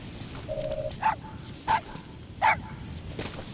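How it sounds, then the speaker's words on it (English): A wild dog pup in Metal Gear Solid V gives three short, sharp barks spaced about two-thirds of a second apart, clear and fairly close over a low game ambience. "That wild dog pup."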